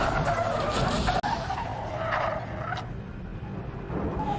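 In an action-film chase, a car skids with screeching tires, a harsh sustained squeal broken by a sudden cut, then a quieter rolling rumble.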